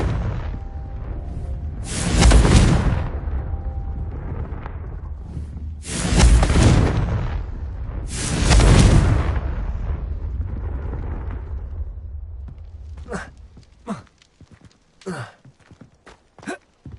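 Three loud, booming Confringo fire-spell explosions in Hogwarts Legacy, spaced a few seconds apart with rumbling decay, followed by a scatter of short, sharp knocks and steps.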